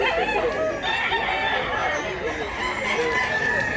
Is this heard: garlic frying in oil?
no